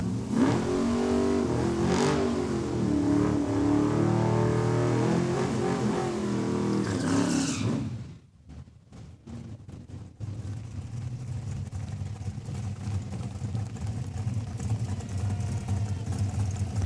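Drag race cars at Saskatchewan International Raceway in Saskatoon roar loudly through a time trial, a sustained rising engine howl for about eight seconds, then a sharp cutoff and crackling before a quieter, steady engine rumble continues.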